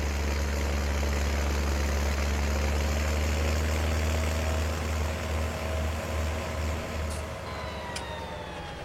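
A Deutz Fire tractor engine runs steadily with a deep, droning low rumble and a constant mechanical hum, loud and close throughout, easing slightly toward the end.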